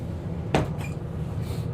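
A cabinet door in a Tiffin Allegro Red 360 37BA motorhome with maple hardwood cabinetry shuts with one sharp close click, followed by a faint latch rattle over a low steady hum.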